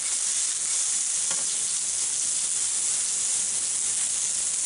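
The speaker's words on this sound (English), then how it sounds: "And we'll go ahead and throw in our onions. Saute those bad boys up a little bit." Onions sauté in a hot pan with a steady, bright hiss of frying that holds even and fairly loud throughout. One faint stir is heard near the start, and no one speaks.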